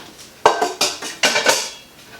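Metal pots clatter and clank in a kitchen as pumpkins are fitted inside for a 6-quart Instant Pot, several sharp, close knocks in quick succession.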